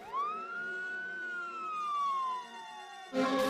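An ambulance siren wails, rising and slowly falling in one long sweep, fairly close and loud, then cuts into a harsher burst at the end.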